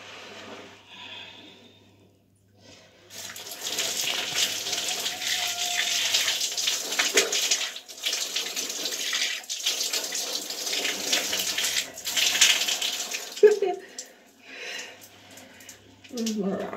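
Tap water runs steadily for most of the stretch while hair is washed and the scalp massaged, a broad close hiss with brief pauses and a few splashes near the end.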